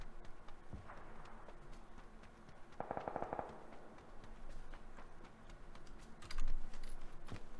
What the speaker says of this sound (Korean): 뭔가 저쪽에서 총소리가 좀 많이 나는데